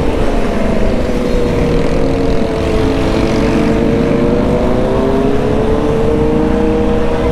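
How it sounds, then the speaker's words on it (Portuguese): Motorcycles rev loudly in a favela street: a continuous close, heavy engine roar with rising and falling whine, steady throughout and with no voices over it. "Dá mó susto quando os caras aceleram muito assim"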